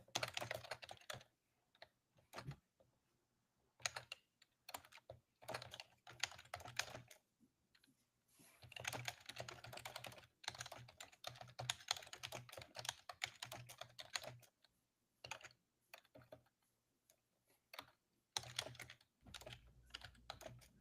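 Someone types on a computer keyboard in quick bursts of close, clicky keystrokes separated by short pauses. The sound is quiet overall, with no talking.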